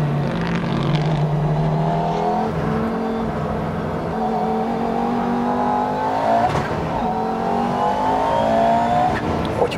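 An Audi Quattro rally A2 car's engine revs and accelerates loudly, its rising harmonic roar climbing through gears with a brief dip at a shift, sustained and close throughout.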